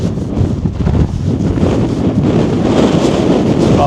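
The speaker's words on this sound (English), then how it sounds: "So there, great lot of wind." Strong gusting wind buffets the microphone on the summit of the Old Man of Coniston in 50 mph winds, a loud continuous low roar that swells and churns throughout with no talking.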